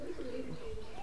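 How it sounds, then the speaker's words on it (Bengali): A white Kalanka pigeon held in the hand gives a soft, low continuous coo, close and steady through a brief moment with no talk over it. "এটা হচ্ছে কালাঙ্কা পায়রা, সাদা কালাঙ্কা পায়রা"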